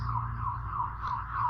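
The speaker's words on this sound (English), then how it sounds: "Sorry for the sirens, I know they're fucking irritating, but there's always police going past here." Police sirens pass outside a room, producing a steady, wavering wail that is moderately loud and distant, running over a low background hum without any speech.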